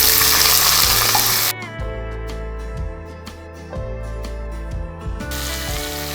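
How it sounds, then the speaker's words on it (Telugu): Food frying in a pan until browned for a sorghum roti upma, a close, loud sizzle with stirring scrapes and a rhythmic clatter that gives way to a softer crackle and then swells again. "మంచిగా బ్రౌన్ కలర్ వచ్చిందాక వేయించుకోవాలండి."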